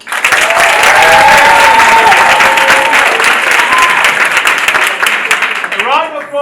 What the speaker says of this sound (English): A round of applause if you think Cinzia is the girl.